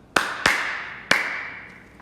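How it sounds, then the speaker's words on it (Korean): Sharp single hand claps, three in quick succession, snap out alone in a quiet classroom, each leaving a short bright ring, made by a teacher to sync a recorded lesson. "일부러 보여주려고 그냥 박수 치고 시작합니다."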